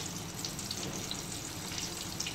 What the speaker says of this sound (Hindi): और फिर गरम गरम ऑयल में डीप फ्राई